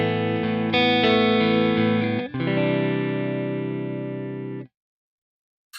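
A dry, clean electric guitar amp tone from a Lone Star Clean model on a Quad Cortex, sustained chords ringing loud and then a changed chord decaying before cutting off into silence.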